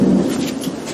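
Steady rain falling outdoors by a driveway, a dense loud hiss with a low rumble beneath, continuous and close throughout.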